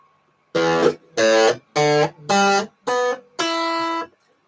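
Six plucked open guitar strings ring out one after another at a steady pace, each clear and close, the last one held a little longer.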